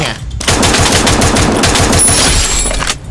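Rapid automatic gunfire from a video game rifle fitted with the Kingfisher Sunscale Serpent skin, a loud sustained burst of rattling shots lasting most of the moment with no talking.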